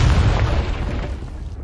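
A Confringo fire spell explodes in Hogwarts Legacy with a deep, booming blast at the start that rumbles and fades away over a second or so.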